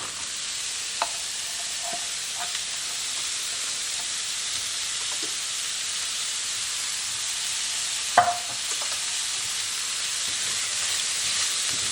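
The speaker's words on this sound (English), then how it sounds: "in that same pan, we're going to caramelize our onions" Onions caramelizing in the same pan just used to brown meat give a steady, even sizzle and hiss throughout, with a few soft stirring scrapes and one sharper clack near the end; no one speaks.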